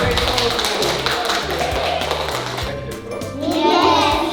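Children at a kindergarten applaud during a dragon visit in Kraków, a loud, dense patter of small hands clapping throughout, with kids' voices mixed in.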